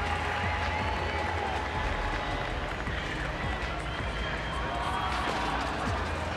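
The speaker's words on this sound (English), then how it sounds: "here comes the crowd getting behind Tia Helgedotter" An arena crowd at the CrossFit Games cheers and claps for a lifter during the women's clean event, a sustained dense roar with commentary running over it.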